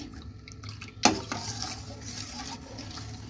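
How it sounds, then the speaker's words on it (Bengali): A spoon stirs a litre of milk in a pot as it heats toward a boil, with a sharp metal clink near the start followed by a steady low simmering hiss and soft scraping throughout. "এইভাবে নেড়ে আমি এটা ফোটা অবধি অপেক্ষা করব"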